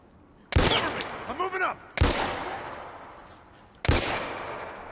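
Three loud, sharp gunshots ring out one at a time in The Last of Us Part 1, each followed by a long ringing decay, with a brief voice sound after the first shot.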